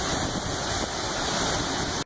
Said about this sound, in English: We're at this waterfall here.